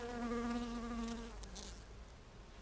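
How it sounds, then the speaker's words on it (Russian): Bees working flowers in the taiga give a faint, close buzzing hum that holds for about a second before trailing off into quiet outdoor ambience. "Пчелки стараются, трудятся."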